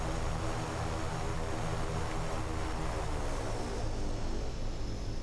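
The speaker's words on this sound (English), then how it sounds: "I always check my propellers to make sure they feather properly" A turboprop aircraft's propellers drone in a steady, dense roar in the X-Plane 11 flight simulator during a propeller feathering check, loud and continuous with no voices.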